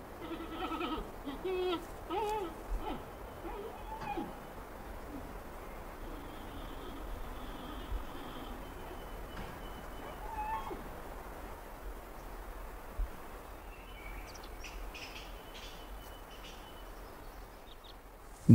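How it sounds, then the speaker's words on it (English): Wild giant pandas bleating and chirping in mountain forest, a few faint, distant bleats and chirps rising over low ambient noise, with quieter stretches between calls. "the sound of loud bleating and chirping raises hopes of a chance to get close enough to study them"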